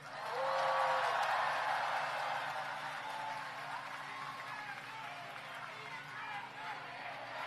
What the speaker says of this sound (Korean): 마지막 박수 한번 치세요.